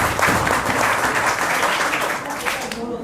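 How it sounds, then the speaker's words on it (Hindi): A studio audience at a KBC-style GK quiz competition applauds a contestant with a dense, loud, continuous burst of clapping that lasts the whole stretch, while a voice speaks over it. "रितिका के लिए एक जोरदार ताली होनी चाहिए"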